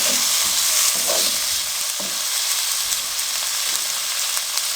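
Tomatoes and finely chopped green chillies fry in a pan for lentil-stuffed bitter gourd, with a steady, close sizzle and crackle, broken by a few scrapes of stirring, with no talking.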